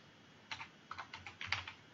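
Keys clatter on a computer keyboard in a few quick bursts of typing, close and fairly quiet, with brief pauses between the clusters of keystrokes.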